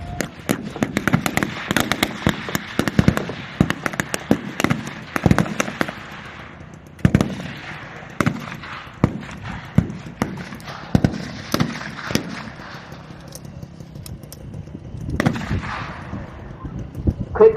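Blank gunfire at a WW2 re-enactment as German troops open fire on jeeps: dense, rapid volleys of sharp cracks and bursts at mid distance, continuous throughout with scattered single shots.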